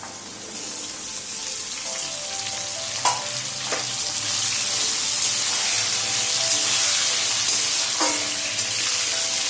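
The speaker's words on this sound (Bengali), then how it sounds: "আলু দিয়ে পেঁপে দিয়ে ভালো করে ভাজতে হবে।" Papaya and potato pieces fry in a pan for a bengali papaya and potato curry, giving a steady, loud sizzle with a few brief clinks of stirring on top and no voices.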